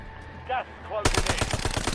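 Rapid automatic gunfire erupts in Call of Duty: Black Ops 7, loud and close, following a brief quiet moment with faint game sounds.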